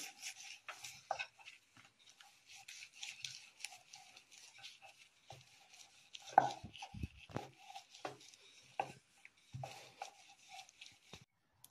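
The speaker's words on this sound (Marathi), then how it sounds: "लाटण्याने लाटून घेऊ। सगळ्या पुऱ्या अशाच लाटून घेऊ।" Puri dough being rolled out with a wooden rolling pin, a soft, quiet rubbing and rasping with light taps and knocks against the board, repeating irregularly with no talk.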